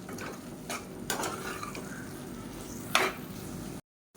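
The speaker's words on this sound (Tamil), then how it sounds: "சேர்த்துட்டு நல்லா பரட்டி விட்டுக்கலாம்" A spoon scrapes and clinks in a pan as roasted spice powder is stirred into mashed tomato, giving a few sharp knocks over a soft background hiss, then the sound cuts off abruptly.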